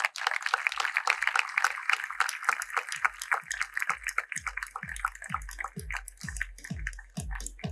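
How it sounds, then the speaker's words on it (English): An audience at an award ceremony applauds, with dense, close clapping that thins into scattered individual claps punctuated by hollow low thumps as the round continues. "Audience, keep on applauding."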